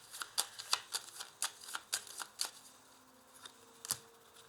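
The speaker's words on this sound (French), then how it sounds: "Alors, je vais ajouter une carte ici." Tarot cards being handled and laid out for a reading, heard as a quick run of crisp, papery flicks and slaps, close and fairly quiet, that thins out into a few spaced snaps with no voice over them.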